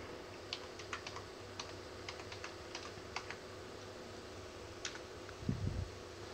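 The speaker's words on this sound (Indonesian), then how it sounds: "Kita ketik aja Tokopedia." Computer keyboard keys typed in short irregular bursts of clicks, close and fairly quiet over a steady fan hum, with a low thump near the end.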